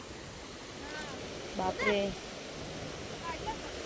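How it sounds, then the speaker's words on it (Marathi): Sea waves surge and wash onto Uran beach in a constant rushing roar, while a voice briefly exclaims over it near the middle. "बघा किती डेंजर लाट येते"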